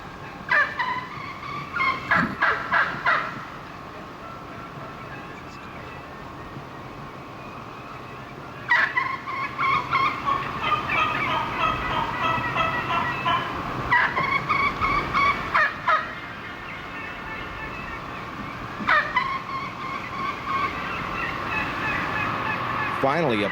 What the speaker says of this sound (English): Turkeys were everywhere, and they were calling up a storm.